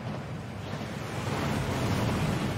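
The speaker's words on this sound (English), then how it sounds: "That waterfall washes away all enchantments." Steady rushing water from a waterfall in the Gringotts vaults of the game Hogwarts Legacy, a continuous broadband roar that swells slightly louder toward the end, with no talk over it.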